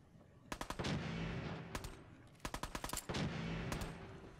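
Gunfire in Fallout 4: short bursts of automatic shots in quick rattling clusters, moderately loud and slightly distant, repeating twice over a steady low ambient rumble.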